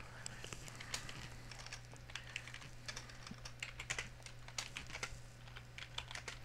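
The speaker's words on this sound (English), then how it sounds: "The text is too small for me to see what Jack is typing" Rapid, irregular clicks from fingers typing on a computer keyboard, steady and fairly quiet over a low constant hum.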